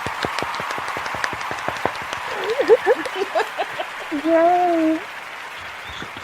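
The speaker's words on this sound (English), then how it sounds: "that deserves a round of applause" Applause from an audience: a run of sharp claps for a couple of seconds, followed by voices and a cheer.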